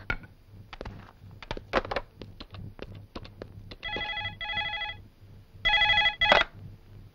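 A telephone rings in a film scene where a prisoner is allowed to make an urgent call. Two bursts of electronic ringing follow a run of clicks and clatter, as if keys were pressed or a handset were handled.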